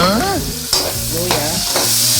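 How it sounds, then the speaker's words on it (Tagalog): Garlic and onion sizzle in a hot pan, a steady close frying hiss broken by a few scraping stirs, with no talking. "Pulahin ng bawang. Itambog ang sibuyas."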